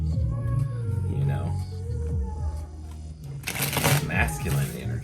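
Tarot cards being shuffled, a close riffling flutter that builds into a bright rapid burst near the end, heard under a person talking.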